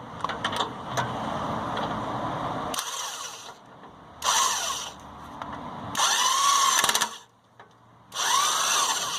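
Impact or power tool running in repeated bursts on the 22 mm nut of a 2011 Ford Expedition rear strut, four loud close whirring runs separated by short pauses, with no talk.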